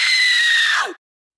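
A woman lets out a single loud, high scream lasting close to a second that bends downward as it breaks off, followed by silence.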